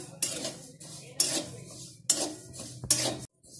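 Cumin and shahi jeera seeds dry roasting in a pan, heard as four distinct scraping strokes of a utensil stirring them at an even pace, close and without any speech.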